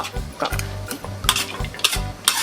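Bean sprouts and tofu stir-fried over high heat, with a sizzling hiss and repeated scraping strokes of a spatula against the pan in an irregular rhythm, close and moderately loud, no speech.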